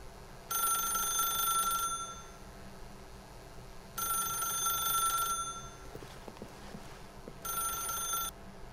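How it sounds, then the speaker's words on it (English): A telephone rings in the video game The Stanley Parable, three separate bursts of bright electronic ringing with quiet pauses between them over a low, hushed background. "If you can truly place your faith in another, then pick up the phone."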